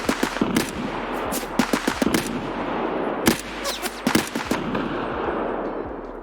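Rapid bursts of automatic gunfire from shooting at rogues in Escape from Tarkov, with scattered single shots and clustered volleys ringing out over a steady background hum.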